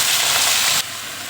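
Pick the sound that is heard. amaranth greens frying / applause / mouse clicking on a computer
amaranth greens frying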